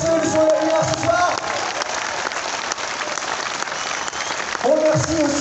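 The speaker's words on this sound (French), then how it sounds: "on les applaudit bien fort car c'est eux le son de la lumière ce soir." Concert audience applauding loudly and steadily after a Téléphone tribute band show in Aix-les-Bains, dense clapping filling the whole stretch, with a few voices and musical tones breaking through at the start and end.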